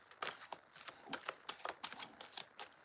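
Tarot cards are handled and shuffled close by, quiet papery riffles and soft slaps coming in quick irregular bursts with no voices.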